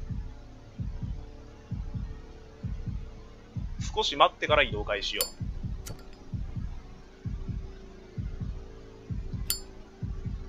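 Steady heartbeat thuds from the horror game Shadow Corridor, a regular low double pulse repeating through the whole stretch while someone talks briefly over it and a few faint clinks sound.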